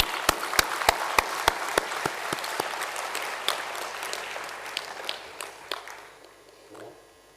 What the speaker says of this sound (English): May we have the huge round of applause for our revered chief guest.